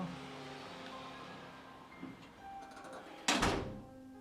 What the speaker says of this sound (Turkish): Kapıyı çaldı arkadaşlar gördünüz